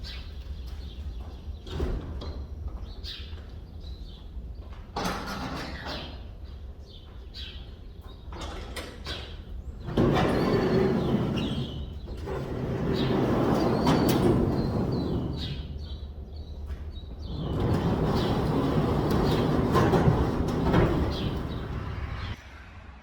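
Garage shop doors rolled open ahead of a concrete pour, giving several long, loud rumbling, rattling passes of sliding metal with clanks and mechanical clatter between them, and no talking.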